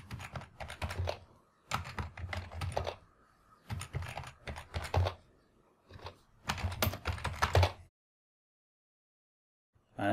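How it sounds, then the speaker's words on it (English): A username and password are typed on a computer keyboard in quick clicking bursts separated by short pauses, close and clear, ending in silence. "here we'll type in the username and the password to log into our router"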